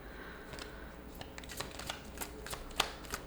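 An I Create My Reality oracle card deck is shuffled up close, a quick run of soft papery riffles and slaps repeating irregularly, with no talk.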